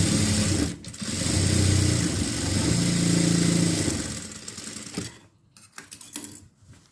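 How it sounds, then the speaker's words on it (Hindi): Electric sewing machine stitching salwar fabric along a corner: a loud, fast, steady motor-driven chatter close by for about four seconds, then slowing and stopping, followed by brief handling clicks and rustles. "तो देखिए गाइस बिल्कुल कोने पे फिनिशिंग से जो है वो स्टिचिंग हो गई है"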